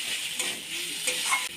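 Coriander leaf paste frying in a pan with a soft sizzle, broken by a few brief stirring scrapes, close and fairly quiet.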